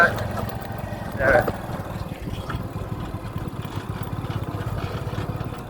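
A JCB backhoe loader's diesel engine runs in a steady low, throbbing rumble throughout, with a brief louder clatter near the start.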